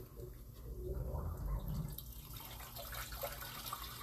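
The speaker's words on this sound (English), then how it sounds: "after I know this sink is done draining" Water running and draining from a sink, a steady close gurgling wash with a louder swell early on, faint dripping and no voices.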